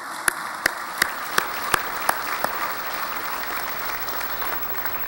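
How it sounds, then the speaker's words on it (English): An audience at a staff forum claps for a cabinet, a steady wash of applause with a few distinct sharp claps standing out early on. "round of applause for..."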